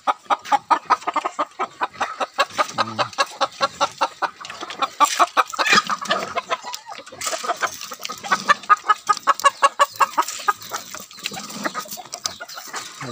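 A flock of farm chickens clucks continuously and rapidly at close range, overlapping calls forming a busy, rhythmic chatter with occasional louder squawks.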